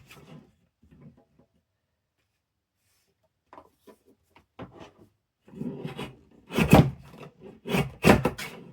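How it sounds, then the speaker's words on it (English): Paper being trimmed for a handmade craft tag, with scattered soft scraping and snipping at first, then louder, close rasping cuts in uneven bursts near the end, with no talking. "So now I've got to trim that up so that it's straight."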